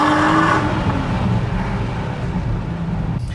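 A Nissan GT-R R35 with its rear silencer removed, a 560 hp car, accelerates gently, its engine note a loud, close rumble that rises briefly and then settles into a steady drone.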